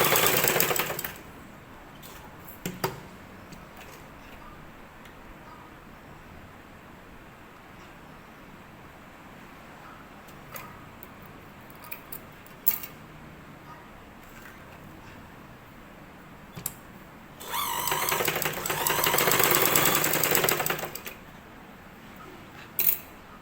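A sewing machine runs a straight seam on a blouse back piece in one burst of about three seconds, a close, buzzing rattle after a long stretch of near quiet broken by faint clicks.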